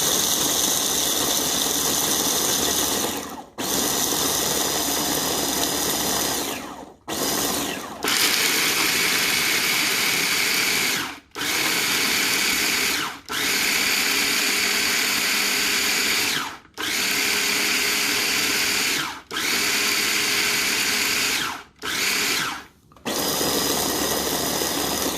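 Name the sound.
electric food chopper running, KitchenAid 3.5 cup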